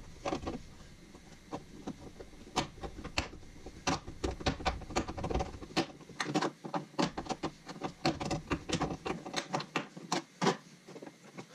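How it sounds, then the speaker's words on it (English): A rapid series of sharp metallic clicks and crunches, irregular and close, as tin snips bite through sheet metal on a Honda Accord, with no talking. "I'm gonna grab the tin snips and make a nice cut right here"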